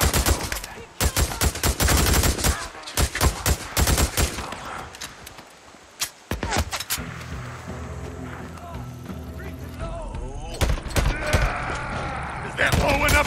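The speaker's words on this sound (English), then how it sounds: "Guns blazing." Gunfire in the open-world zombie survival game Days Gone: repeated bursts of loud, rapid automatic shots, with a quieter stretch midway before more shots return near the end, while voices shout over the fighting.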